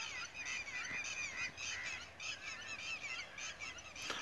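A red-wattled lapwing (titeri) calls outdoors on open ground in rural Punjab in the evening, giving a run of repeated sharp, strident cries in quick succession over a faint, steady background hiss.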